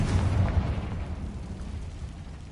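A Confringo spell in Hogwarts Legacy bursts with a loud, low explosive boom that fades into a crackling, rumbling decay.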